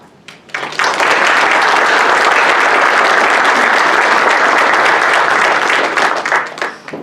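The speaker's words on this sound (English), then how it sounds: "please give yourselves a well-deserved round of applause" Audience applause at a housing summit, a dense steady wash of many hands clapping that swells in quickly, holds loud and even for several seconds, then tapers at the end.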